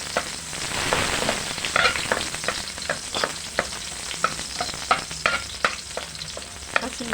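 Sliced onions sizzle and fry in a hot pan for Filipino bean-sprout spring rolls, a steady crackling hiss with occasional stirring scrapes and pops, close and alone with no talk.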